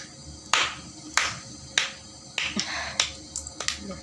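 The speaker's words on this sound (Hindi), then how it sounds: "ताली बजा" Sharp, separate hand claps ring out at a home birthday celebration, about eight spaced beats with a short quick burst near the end, close and clear over a quiet background.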